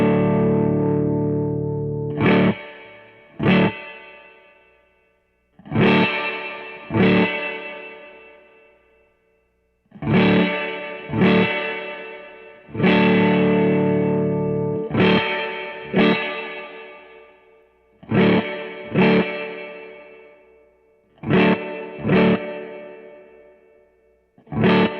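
Baritone guitar through a Topanga spring reverb pedal, deep chords and plucked notes struck in loose phrases, each blooming into a drippy, splashy reverb tail that fades between strums.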